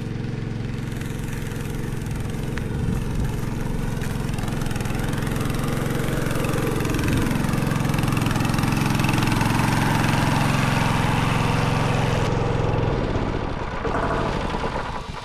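A small water pump engine without a check valve runs steadily and loudly at close range, a constant droning rumble that carries on without a break before tapering near the end.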